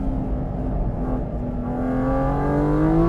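A 2023 Porsche 718 Cayman GT4 RS engine climbs in revs under throttle, a loud rising mechanical howl with its pitch sweeping steadily upward, alone without talk.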